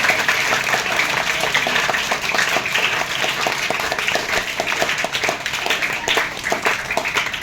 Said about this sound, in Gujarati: આપણે તાળીઓના ગડગડાટથી સ્વાગત કરીએ.